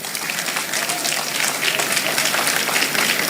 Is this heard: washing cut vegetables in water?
no